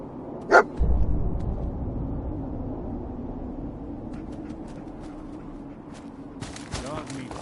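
Dogmeat, the dog companion in Fallout, barks once sharply up close, then rumbling game noise and faint clicks follow, with a burst of chatter near the end.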